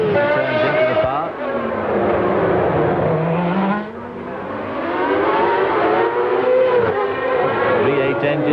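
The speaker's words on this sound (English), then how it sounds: "It revs so high for a V8 engine." A Formula One race car with a Ford V8 engine screams at very high revs, near 13,500 RPM, in a loud, sustained wail that rises and falls in pitch as the car speeds past.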